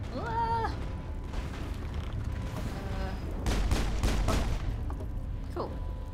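Video game gunfire in the Mass Effect finale against Saren, with bursts of shots clustered in the middle and lighter pops around them, set under a steady bed of game ambience and music.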